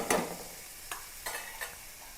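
Onion, green chili and ginger sautéing in a pan while being stirred, with a soft steady sizzle and a few distinct scraping stir strokes, fairly quiet and with no talking.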